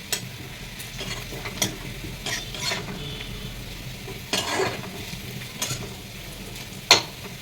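Onions frying in a kadai during a Bengali potol-peel recipe, with a steady low sizzle and scraping stirs of a spatula at irregular intervals, plus one sharp clink near the end; no voices.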